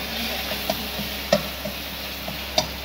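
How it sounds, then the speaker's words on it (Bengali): Spice masala with coriander powder sizzles steadily in a pan while being stir-fried, a close bright hiss broken by a few sharp clicks of the spatula against the pan. "একটু ধনিয়া পাউডার, মশলাটা ভালো করে কষিয়ে নিই।"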